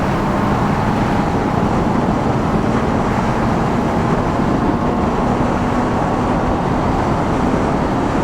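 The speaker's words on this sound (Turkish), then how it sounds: "Hiç debriyajı kullanmadan duruyor. Sonra gazı verir vermez fık diye gidiyor." A new Honda CB650R E-Clutch naked motorcycle rides along and accelerates, its engine note and wind rush forming a steady, loud, unbroken roar with no speech.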